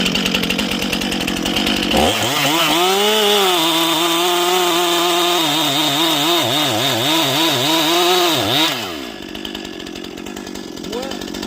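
Chainsaw running a chain with its depth gauges removed, cutting into softwood and hardwood: a loud, close engine whine that bogs and surges in wavering pulses through the cut for several seconds, then drops back to a rough idle.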